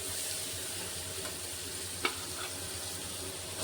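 Onions sauté in a pan with salt and ginger garlic paste for a goat head curry, giving a steady, close hiss of frying with one brief sharp tap of a utensil partway through.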